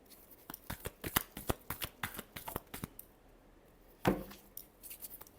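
Tarot cards are shuffled by hand in a quick series of crisp, close riffling flicks, then a brief pause and one final louder shuffle.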